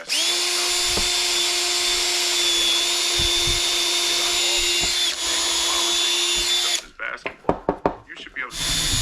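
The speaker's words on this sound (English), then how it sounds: "So I'm pre-drilling these so that when I put my screws in, these don't split." A power drill whines steadily at high speed for several seconds, pre-drilling pressure-treated deck boards, close and loud, then stops, followed by a few short knocks and clatters.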